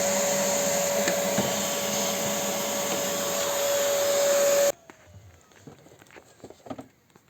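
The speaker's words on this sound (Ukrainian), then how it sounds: "Далі пилососимо сам короб для того, щоб прибрати якісь там частинки" A vacuum cleaner runs loud and steady with a high whine as it cleans the air filter box of a 2014 Renault Clio IV estate, then cuts off abruptly, leaving quiet handling noises.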